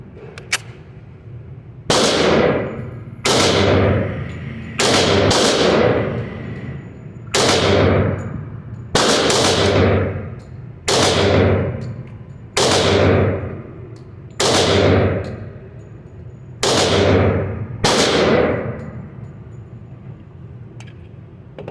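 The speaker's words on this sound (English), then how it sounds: "Those 8 shots go by pretty quick." Eight loud gunshots from a Girsan Untouchable 1911 pistol fired in a steady string at a range, each a sharp crack with a short decaying tail, spaced roughly a second or two apart.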